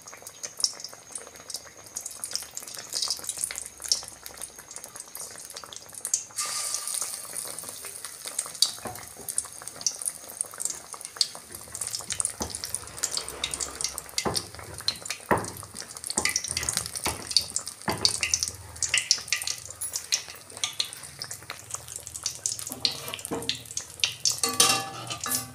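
Banana flower chops sizzle as they deep-fry in hot oil in a home kitchen, a steady close crackle with brief stirring and clinking bursts over about 25 seconds, and no talking.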